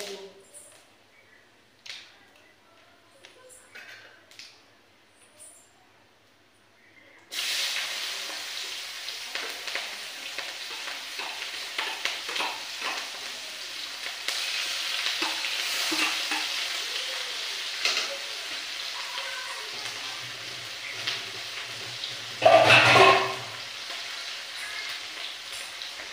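Ginger garlic paste, onion and dried chilli hitting hot oil with cumin, a sudden loud sizzle that settles into a steady frying hiss with stirring scrapes, and a brief louder burst near the end, after a quiet start.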